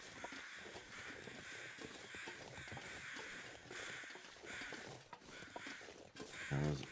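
Crows caw repeatedly in the survival video game The Long Dark, harsh calls recurring every second or so over a steady wash of wind and ambient noise, with a brief heavier thump near the end.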